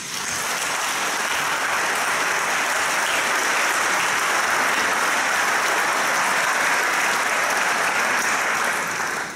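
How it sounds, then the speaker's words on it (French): Sustained applause from an audience at a store inauguration, a dense even clatter of many clapping hands that holds steady and loud for the whole stretch, with no voices standing out. "Alors, et on vous applaudit."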